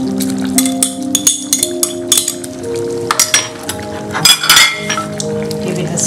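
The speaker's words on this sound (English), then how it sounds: "At this point, I'm going to add the boiled potatoes." Boiled potatoes going into a pan of prawn masala, with repeated clinks and scrapes of utensil on pan over a steady frying sizzle, spaced irregularly across several seconds.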